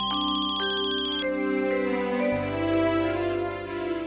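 Incoming-call telephone ringtone, a loud electronic melody of sustained tones that repeats and changes partway through, playing alone without talk.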